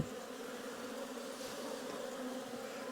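Honey bees from a weak spring colony buzzing steadily during a hive inspection, a close, even drone with no talk.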